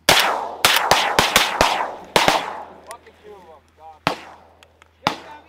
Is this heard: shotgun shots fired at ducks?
yes